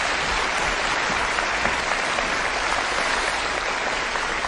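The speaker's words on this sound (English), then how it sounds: "Give her a round of applause." Studio audience on a live paranormal television broadcast breaks into steady, dense applause, a continuous wash of clapping that stays loud and even from start to finish with no talking over it.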